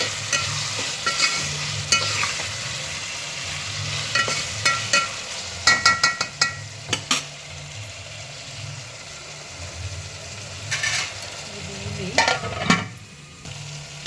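Tomatoes fry in a pan with paste, mint and coriander, giving a steady sizzle broken by bursts of utensil scraping and clatter as they are stirred, close and without talk.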